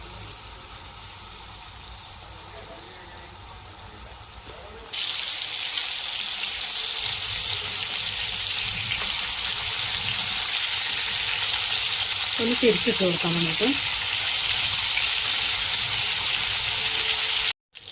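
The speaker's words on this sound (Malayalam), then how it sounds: "ഇതൊന്ന് ഷാലോ ഫ്രൈ ചെയ്തെടുക്കാനുള്ളതാണ്." Marinated chicken shallow frying in hot oil in a pan, a quiet sizzle that jumps to a loud, steady crackle partway through as pieces go in. A short clatter follows as they are turned, and a voice speaks briefly.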